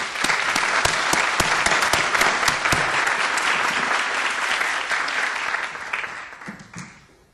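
A faculty meeting audience applauds to welcome new faculty members, steady dense clapping from a large room that holds for several seconds, then thins out and fades near the end.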